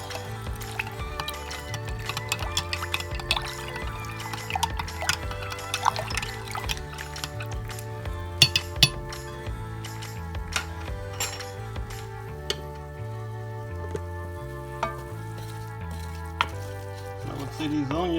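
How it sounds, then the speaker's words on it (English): A spoon stirs onion soup mix into onions cooking in a pan, with a steady sizzle, scraping and light clinks of utensil on metal, over low background music. "Stir it up."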